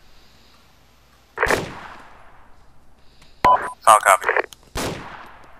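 Gunfire in the military shooter Arma 2 during a co-op firefight: loud bursts of automatic fire crack out in three separate volleys, with a short spoken radio-style reply in between.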